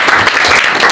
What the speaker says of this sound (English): Please clap hands